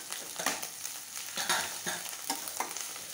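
Carrot fried and stirred in a pan for katte pongal, a quiet, steady sizzle broken by regular scraping strokes of a spoon roughly every half second, with no voices.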